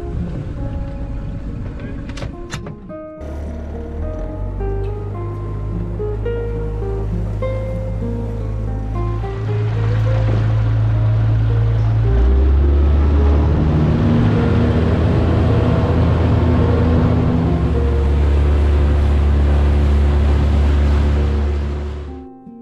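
An AS Tender Coast 340 tender boat runs across open water, its outboard drone rising to a loud, steady rush mixed with splashing and wave noise, with a brief knock near the start.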